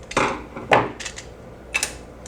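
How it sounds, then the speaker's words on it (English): A few sharp plastic cracks and snaps in quick bursts, then scraping, as the hard plastic case of a garage door opener keyfob remote is forced apart with a screwdriver. "So you want to start by splitting the case halves. This one just takes a screwdriver."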